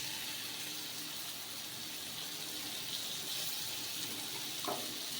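Shredded cabbage frying in butter for a quick pasta dish gives a steady, close, even sizzle that holds throughout, with one brief stir or clatter near the end.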